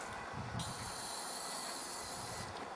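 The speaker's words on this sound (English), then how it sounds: "I'm sure it's supposed to be spraying a bit more than that, this can" A Mr. Muscle aerosol oven cleaner can sprays in a steady, fairly weak hissing burst lasting about two seconds, starting and stopping abruptly against a constant background roar, with no talking.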